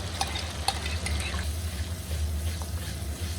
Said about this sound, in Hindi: फ्लेम नीचे से हाई कर दें और दही के साथ आप इसे भूनें